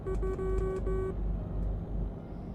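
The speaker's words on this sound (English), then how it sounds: "Hear my Morse code horn." A truck horn in Euro Truck Simulator 2 taps out a Morse-code pattern, several short and longer blasts in quick succession over a low engine rumble, then the horn stops and the motor continues.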